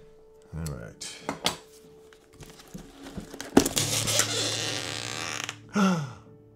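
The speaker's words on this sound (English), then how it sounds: "That high quality squeak of cardboard" Cardboard packaging squeaks and creaks as it is pulled open up close, mixed with crinkling rustles and a brief thump, with a voice heard faintly in places.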